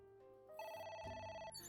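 A telephone rings in a video game, a bright electronic trill that sounds close and clear for under two seconds, with no voices over it.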